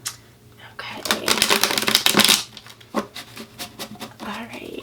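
Tarot cards shuffled by hand in a tarot reading, a dense burst of riffling and flicking that swells loud mid-clip, then trails into lighter scattered taps and card slides, close up.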